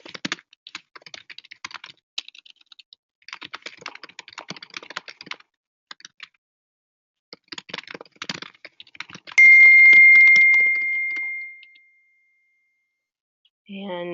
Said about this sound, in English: Let me just type to that person since they can't hear me.